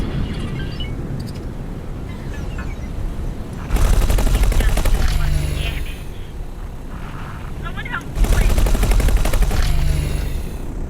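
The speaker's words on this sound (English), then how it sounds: "Someone shooting me? Sounded like it was shield impacts." Weapon fire striking ship shields in the space game X4: Foundations comes as two loud, dense bursts of rapid impacts over a low droning background.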